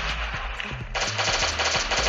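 Rapid automatic fire from an SK rifle in Last Day on Earth, a loud continuous burst of clattering shots that starts partway in and runs to the end, with a quieter burst before it.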